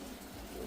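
A Madrasi pigeon gives a soft, brief coo, faint and low against a quiet background.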